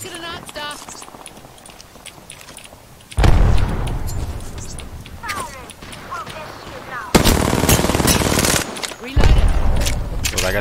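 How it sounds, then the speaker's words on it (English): Video game gunfire erupts in loud machine-gun bursts and sustained rattling volleys after a quieter opening, with brief lulls between heavy stretches while players talk over the shooting. "Shooting behind us here."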